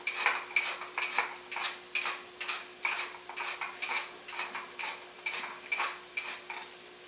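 Black pepper being ground in a mill, a quick train of small dry clicks and crunches in steady rhythmic bursts, close and quiet, with a faint steady hum beneath.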